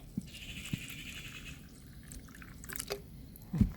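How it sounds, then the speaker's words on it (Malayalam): Water poured from a glass onto cooked rice gives a brief, soft splash and dribble at the start, followed by a few faint drips and small knocks against a quiet background. "ഈ ചോറിലേക്കാണെങ്കിൽ ഞാൻ ഒരു ഗ്ലാസ് വെള്ളം ഒഴിച്ചു കൊടുക്കുകയാണ്"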